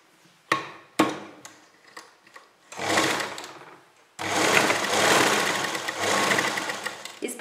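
A sewing machine stitches a fabric strip for a kurta: a few single clacks of the needle, then short bursts and longer steady runs of fast whirring, close and loud.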